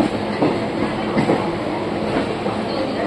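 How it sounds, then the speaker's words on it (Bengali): The Howrah–Dibrugarh train bound for Assam rolls along with a steady rumbling clickety-clack from the wheels. The sound is continuous and moderately loud, with no talk over it. "হাওড়া ডিব্রুগড় আসাম, এটা আসাম যাওয়ার ট্রেন।"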